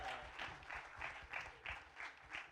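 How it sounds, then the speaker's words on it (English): Audience applause breaks out at a film trailer launch event, a steady wash of many hands clapping with rhythmic swells, moderately loud and close, with no speech over it. "let's have a huge round of applause for all the parents"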